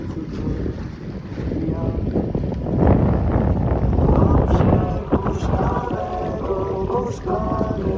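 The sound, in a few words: Sasanka Viva 700 sailboat sailing on Lake Śniardwy, wind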